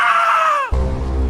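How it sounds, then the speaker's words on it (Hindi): A sudden loud scream in a jungle tale, a single high wavering cry lasting under a second, followed at once by a lower, rougher sustained sound. "तभी अचानक एक चीख सुनाई दी।"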